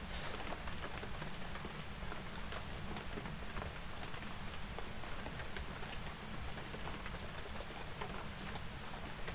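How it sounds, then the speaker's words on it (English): Steady, dense rain pours without pause in the Phasmophobia ghost-hunting game, a close, even hiss of countless drops on surfaces with no voices over it. "I love the sound of rain."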